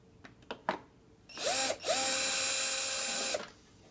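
A power drill loosening screws on a hoverboard during a battery replacement, a few faint taps followed by two loud whirring bursts, a short one and then a sustained one of about one and a half seconds, close by with no talk.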